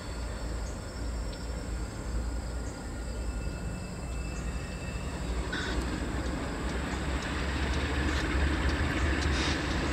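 A Pan Am freight train departs the East Deerfield yard, its low steady engine rumble building gradually over about ten seconds, with faint metallic squeals and insects chirping in the background.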